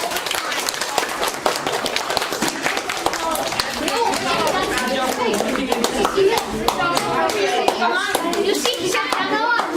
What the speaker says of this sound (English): Let's give them a clap because they work.